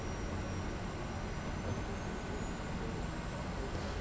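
A Kodiak 100 single-engine turboprop at takeoff power in Microsoft Flight Simulator gives a steady, dense roar with a faint high whine running through it, loud and unbroken from start to finish.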